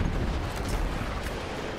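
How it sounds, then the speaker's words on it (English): Distant bombs and artillery thunder in a Battlefield 1 battle, a continuous low rumbling roar with no clear separate blasts, heard alone without talk. "Oh, I hear bombs."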